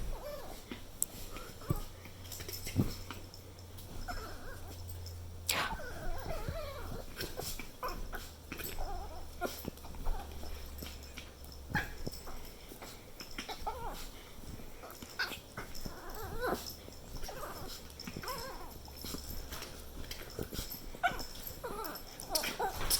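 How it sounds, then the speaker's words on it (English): A dog whimpers and yips now and then in an indoor home setting, the cries short and scattered over steady low background noise, some near and some softer. "Go get your dog."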